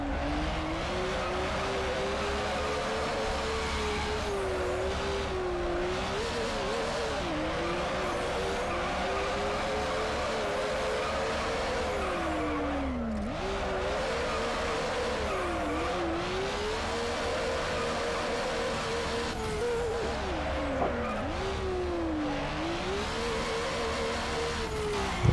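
A Nissan Skyline R34 drifts in NFS Underground, its engine droning steadily while tires squeal repeatedly in long, sweeping bursts throughout.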